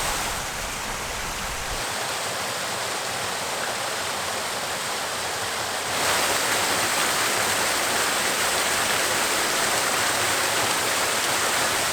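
Waterfall on the Caerfanell River, a steady, loud broadband rush of falling water that fills the whole scene without break, with no voices.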